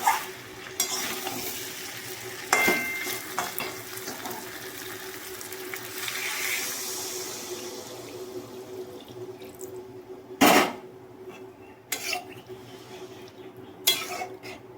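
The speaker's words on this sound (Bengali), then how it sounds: "মাংসটা কষানো হয়ে গেছে এখন জল দিয়ে দেবো" Chicken curry sautéing in a pan as water is poured in, bringing brief louder splashes and sizzling bursts over a steady low simmer, with occasional scraping clinks of a utensil against the pan.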